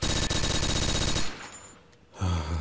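Rapid sustained automatic fire from an MG42 machine gun in the video game Blockade 3D, a loud continuous burst that stops abruptly, leaving a brief lull before another loud burst starts.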